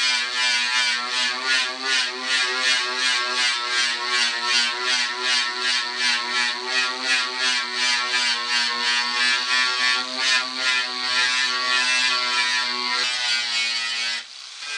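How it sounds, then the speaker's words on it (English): An electric grinder strips E-coat from the door skin of a 1967 Ford Mustang during restoration, giving a loud, continuous high-pitched whine with a slight pulsing wobble that runs unbroken for the whole stretch. "I'll fire up the grinder here and we'll just take off this E-coat where we're going to put the filler on"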